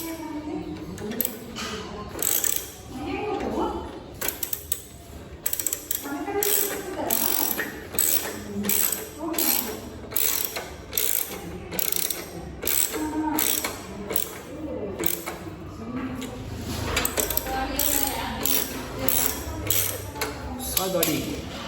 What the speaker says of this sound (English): Hold from behind with the spanner, then start tightening here.